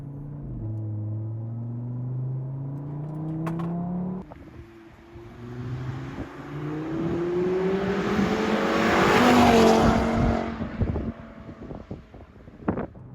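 A 420 hp Stage 1 Audi RS3 with four-wheel drive accelerates at full throttle in sport mode, engine note rising through gears with a shift dip, building to a loud roar under heavy wind noise.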